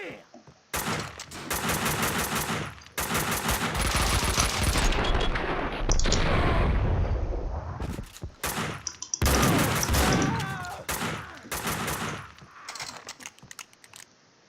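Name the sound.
gunfire in the Max Payne 2 video game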